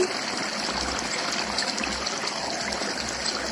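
Water trickles and pours steadily into coarse semolina being ground to a fine paste for South Indian appam batter, a continuous close watery stream with no talking.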